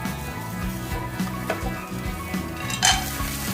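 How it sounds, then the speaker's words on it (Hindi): Roasted peanuts being stirred into a samosa chaat stuffing in a pan, a steady scraping and stirring with soft sizzling and a few sharp utensil clinks against the pan, close up and without talk. "मूंगफली जो मैंने रोस्ट किया था इसे भी मिक्स कर लूँगी।"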